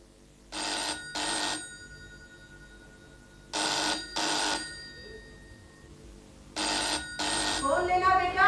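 Telephone ringing indoors at home in three distinct double bursts with short pauses between, clear and fairly loud, followed by a voice speaking at the end.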